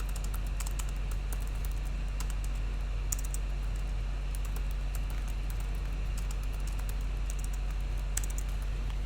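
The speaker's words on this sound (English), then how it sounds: "I'm gonna just, again, type in some stuff." Keys tapped on a computer keyboard while entering text, a quiet run of light clicks scattered over a steady background hum, close and soft with no talking.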